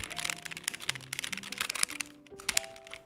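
Fingers type rapidly on a mechanical keyboard fitted with Kailh white switches, producing a close, crisp patter of clicky keystrokes with a slight pause near the end, and no talking.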